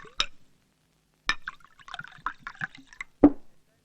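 Soda splashes into a glass to dilute a drink, heard as a few short, close liquid pours and drips separated by pauses, ending in a sharper splash.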